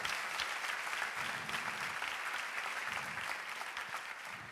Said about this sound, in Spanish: Creo que se merece una mejor ofrenda de aplausos el Señor.